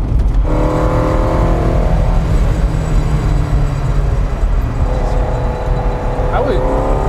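Ferrari 308 GTB Vetroresina V8 accelerating in third gear, heard from close by as a steady, loud engine drone that pulls and rises toward the end.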